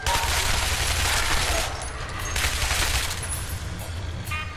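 Sustained gunfire from the Shadow Warrior video game fills the first stretch as a dense, continuous fusillade. It eases briefly, then swells again, with bursts crackling over a low rumble and no talk.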